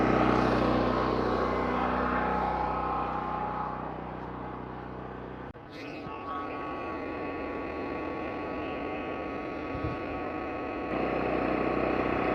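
A DuroStar DS4850EH portable generator runs at close range, a loud steady engine drone with a rough low rumble that shifts in tone midway, continuous throughout with no talking.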